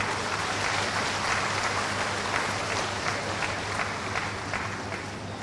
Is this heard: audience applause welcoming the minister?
yes